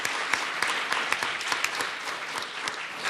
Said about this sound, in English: Another round of applause for them coming out tonight.